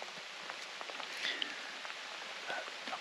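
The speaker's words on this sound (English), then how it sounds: "it's raining again" Rain falls in wooded Ohio hills, heard from a hunter's tree stand as a soft, steady patter with scattered individual drops tapping nearby leaves and surfaces, fairly faint and without voices.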